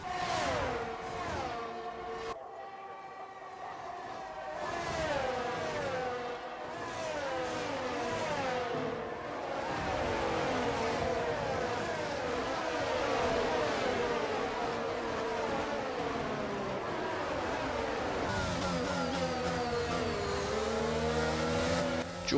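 Formula 1 race cars in F1 22 at Silverstone, including George Russell's Mercedes, with high engine whines rising and falling through gear changes, several cars close together accelerating and braking, loud and continuous.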